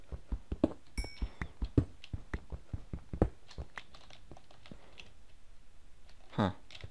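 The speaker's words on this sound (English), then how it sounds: "I think you guys can probably hear me mashing my keyboard." Rapid, uneven clacking of a computer keyboard being mashed hard while playing Minecraft, a burst of fast presses with short pauses between, close up and fairly quiet.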